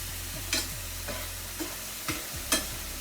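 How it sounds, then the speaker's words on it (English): Tomatoes, garlic and onions cooking in a pan over high heat, a steady soft sizzle with several light stirring scrapes and clicks at regular intervals, close and fairly quiet, no voices. "we are stewing these tomatoes, roasting them with the garlic and the onions, making sure they get really soft"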